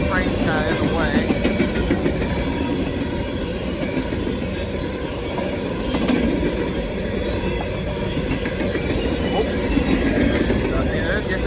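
Conrail-era freight train of hopper cars rolling past a railfan, a loud continuous rumble of wheels and car bodies with scattered rattles and squeals, close and unbroken for the whole stretch.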